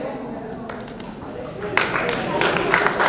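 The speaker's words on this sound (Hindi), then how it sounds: "प्लीज तालियों में कंजूसी न रखें।" Audience applause at a chess tournament prize ceremony, a scattered patter of claps that swells into fuller, denser clapping midway, with a voice talking over it.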